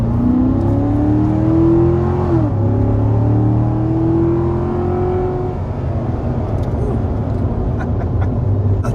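A 2019 Chevrolet Corvette C7 Grand Sport V8 heard close and loud from inside, its engine note climbing under acceleration, shifting, then pulling up again to a steady drone.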